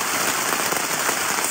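Heavy rain drums loudly and steadily on a surface at a mountain campsite in the French Alps, a dense unbroken hiss with no voices.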